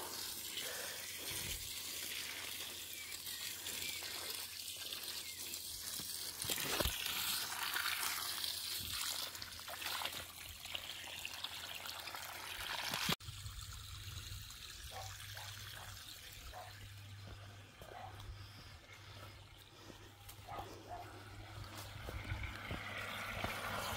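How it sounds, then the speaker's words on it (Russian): A powerful stream of liquid fertilizer pours steadily, a continuous rushing, splashing flow like a running tap, close and unbroken over a low hum. "Мощный поток удобрения."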